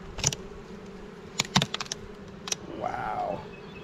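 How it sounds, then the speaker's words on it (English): A honey bee swarm gives off a low, steady buzzing drone, fairly faint, broken by scattered clicks and knocks and a brief voice near the end. "Man, look at all the bees in there."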